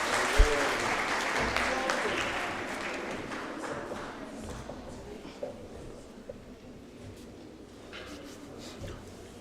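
Audience applause in a municipal hall at an SMME roadshow, loud at first with some sharp individual claps, then thinning and fading out with low room noise.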